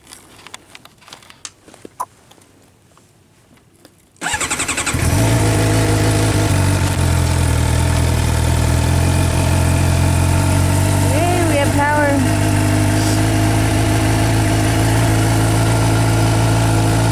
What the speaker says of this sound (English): I'm gonna try and start the bike now.